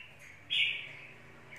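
A caged songbird from Thái Nguyên gives one clear, sustained high whistled note that fades out, with a fainter chirp just before and another after.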